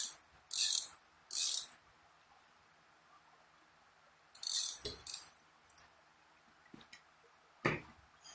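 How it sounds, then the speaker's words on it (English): A screwdriver clicks in short ratcheting bursts as it backs out a small screw, close and quiet with pauses between turns. "we're going to use our LTT screwdriver. We're going to undo one."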